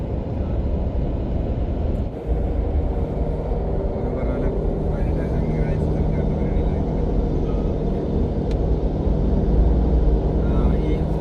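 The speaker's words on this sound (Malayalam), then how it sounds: "V6 പെട്രോളാണ് കേട്ടോ പോകുന്നത്." A V6 petrol vehicle, a fully custom-built lifted truck, rumbles past at a steady low drone that swells slightly toward the end, with voices talking faintly underneath.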